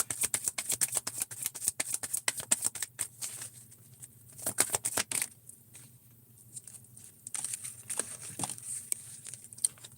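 Oracle cards are shuffled and drawn by hand for a collective reading, making dense bursts of riffling and flicking paper up close. Quieter gaps fall between the shuffles, with soft card slides and taps, and no one talks.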